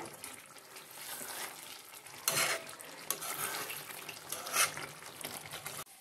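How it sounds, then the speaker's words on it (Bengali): Potatoes being stirred in a pan with ghee for vegetarian Kashmiri aloo dum, a soft, close scraping and sizzling texture with a few sharper spoon clacks against the pan, fairly quiet and with no talking. "ভালো করে নাড়িয়ে নেবো।"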